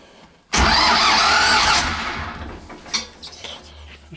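An engine cranks with a sudden whirring start after a distributor replacement, catches briefly with a loud rough burst, then sputters and fades to uneven knocks.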